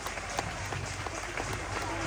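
A crowd applauding at a Tamil debate show (pattimandram), steady dense clapping filling the room for a couple of seconds, with voices faintly underneath.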